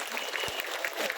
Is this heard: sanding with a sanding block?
no